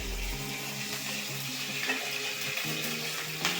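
Fenugreek seeds crackle and sizzle in hot oil, a soft, steady frying hiss with faint clinks and a low hum underneath, close and fairly quiet.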